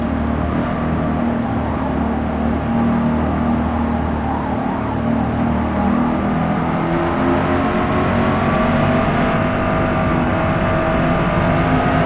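A race car engine in Forza Motorsport drones loud and continuous, its note climbing gradually as the car accelerates on track, with no voices over it.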